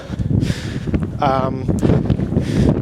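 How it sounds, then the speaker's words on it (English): Gusty wind buffets the microphone on a hill in New Zealand in winter, a steady rumbling roar with a brief whistling tone partway through, under faint background talk. "Oh, it's windy."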